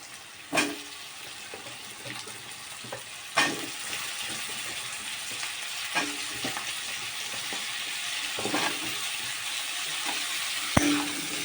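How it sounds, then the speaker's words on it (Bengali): Vegetable stalks sautéing with reddened, browned onions in a pan for a river fish curry: a steady frying sizzle with periodic louder scrapes and stirring clatters, close and without talk. "ডাটাগুলো দিয়ে সুন্দর করে একটু কষাবো"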